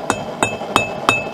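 A small hammer taps a knife tip against the horn of an anvil, five light, sharp metallic strikes spaced evenly at a steady rhythm, close and clear.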